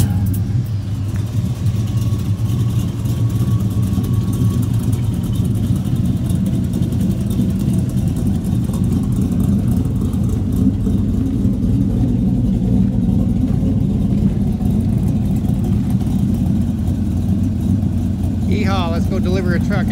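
A 1978 Chevy C10 Squarebody pickup truck drives steadily, its engine a constant loud low rumble heard from inside or close by throughout, with a faint voice near the end.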